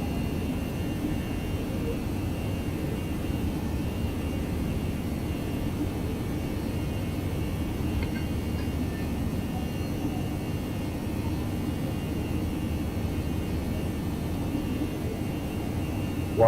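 Simulated airliner in X-Plane 11 climbing out of Cebu after takeoff, a steady, even broadband engine and wind roar that holds constant throughout with no talk over it.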